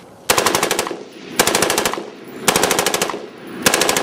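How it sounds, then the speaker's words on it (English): In the game Girls Frontline, an M4A1 rifle fires loud full-auto bursts, four rapid rattling volleys separated by short pauses. "M4A1 can do full auto and is issued to military personnel."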